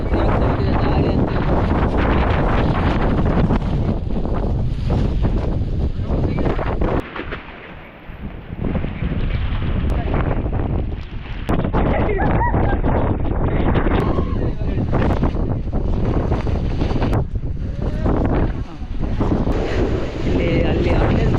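Strong wind roars across a rainy hilltop at Mullayanagiri, buffeting the microphone in a loud, constant rush with only a brief lull partway through.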